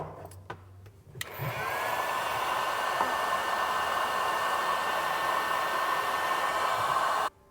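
A heat gun blows steadily to melt solder sleeves on wire connectors while installing LED lights on a Polaris Ranger, a loud continuous whooshing hiss after a few clicks, ending abruptly.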